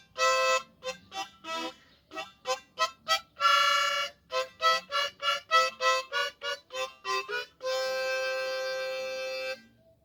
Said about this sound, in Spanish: Se llama armónica